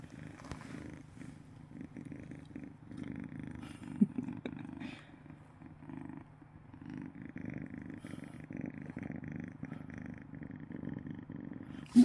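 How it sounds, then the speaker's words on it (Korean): A cat purrs steadily up close, a low rhythmic rumble that continues for a long stretch in a quiet room. "골골거리."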